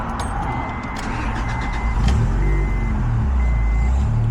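An Acura Integra engine idles on crank-only triggering with no distributor, giving a steady, loud, close low rumble with a faint tonal whine above it and no voices.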